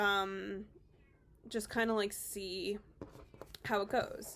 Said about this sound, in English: I have a cat that is crying for my attention